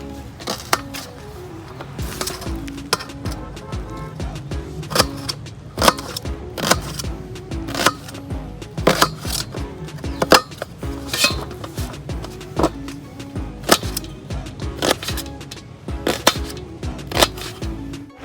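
Knife chopping boiled onion into small pieces on a board, a steady run of rapid sharp clacks with occasional clinks, close and alone over a faint background.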